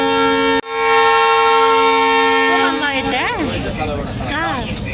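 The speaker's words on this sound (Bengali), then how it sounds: "তারপর এখানে ট্রেনের শব্দ পাবে।" A train at a station, a loud sustained horn blast that cuts off and returns, followed by rumbling and wavering tones as the train gets going nearby.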